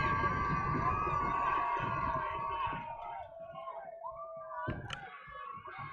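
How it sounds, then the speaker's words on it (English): A high school football crowd cheers and shouts at a game between Eastside and Palmdale, a loud roar with a high whistling tone that fades partway through and then swells again with scattered shouts. "As the crowd goes wild."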